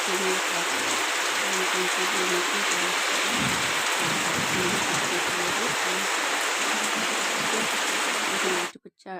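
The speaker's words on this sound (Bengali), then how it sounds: "এখন ঝমঝমে বৃষ্টি পড়ছে" Heavy rain pours down in a dense, constant hiss and patter on surfaces, loud and unbroken for almost the whole span before cutting off abruptly at the very end.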